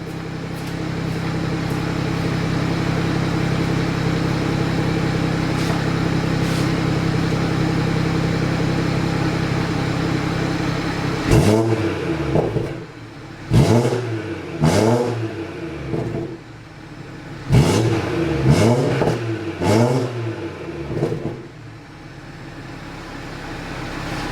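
A BMW F30 340i M-Sport engine with a newly installed downpipe idles with a steady low drone, then revs sharply several times in quick, loud bursts, each rising and dropping back.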